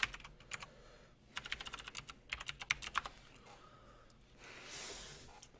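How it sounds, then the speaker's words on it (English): Rapid clattering keystrokes on a computer keyboard come in quick bursts with short pauses, typed close by and quietly, with a soft breathy hiss near the end. "You want to actually type in your IP."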